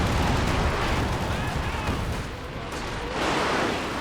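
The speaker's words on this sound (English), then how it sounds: "he's making use of the creeping barrage" Creeping barrage artillery fire in Company of Heroes 2, a dense, continuous roar of overlapping shell blasts and rumbling impacts, loud and close, easing briefly before swelling again.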